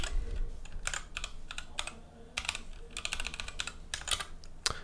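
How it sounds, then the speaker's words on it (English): Fingers type on a computer keyboard while coding HTML, a fast irregular run of close, crisp key clicks with brief pauses between bursts. "So to do that, we simply type in link."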